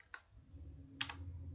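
Keys on a Windows computer keyboard typing in Hindi phonetic input, heard as two separate soft clicks spaced almost a second apart over a low, steady room hum.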